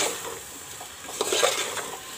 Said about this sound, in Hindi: सभी को हम अच्छी तरह से मिक्स कर लेंगे और इन्हें भी हम अच्छी तरह से रोस्ट कर लेंगे